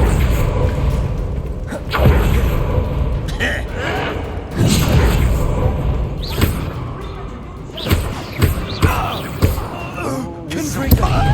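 Explosive spell blasts in Hogwarts Legacy: several deep booming thuds burst out at intervals, mixed with whooshing bursts and a busy game soundscape, with some talk underneath.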